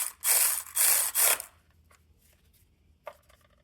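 A ratchet clicks in three quick, close bursts while tightening a bolt during alternator replacement on a 2012 Honda Civic, followed by quiet and a faint metallic tap.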